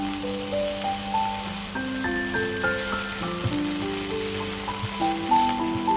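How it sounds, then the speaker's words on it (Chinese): Steady sizzling of corn kernels frying in butter in a hot pan, heard beneath a melodic musical backing that plays throughout. "在同一个锅中再加入一点牛油，放入我喜欢的玉米粒，"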